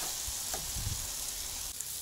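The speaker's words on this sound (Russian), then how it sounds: "Ну и жарим с обоих сторон до появления золотистой корочки." Bananas fry on a grill with a steady, dense sizzle, close and continuous, with a few soft knocks of stirring or turning.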